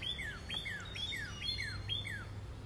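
A red bird chirps outdoors in a steady series of short, repeated downward-sweeping calls, about seven across the span, heard fairly close over a low background rumble.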